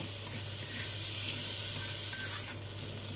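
Celery tossed with prawns and cashew nuts in a hot pan gives a steady sizzle and frying hiss, with light stirring and a few faint utensil clinks.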